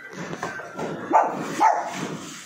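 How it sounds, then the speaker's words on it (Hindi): Dog barking in a home, a string of muffled, moderately loud barks and yips in an uneven rhythm. "ऊपर से मैक्स इनको देख के भौंकता रहता है।"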